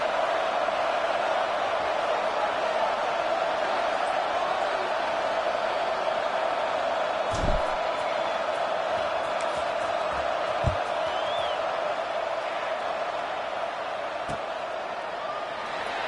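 A simulated stadium crowd in the NCAA 26 football video game holds a constant, muted roar after a score, an even wash of distant voices broken by a few soft thumps.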